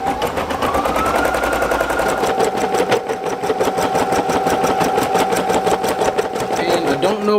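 A Brother SE1900 embroidery machine stitches in a rapid, regular mechanical chatter with a whirring motor tone, close and loud, the pace shifting slightly partway through.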